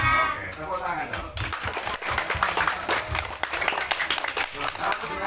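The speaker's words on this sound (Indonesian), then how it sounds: "Oke, tepuk tangan dong." Children at a Quran school's educational magic show break into dense, rapid clapping that fills most of the moment, with voices mixed in.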